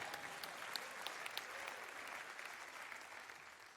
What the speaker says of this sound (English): Y'all clap for that.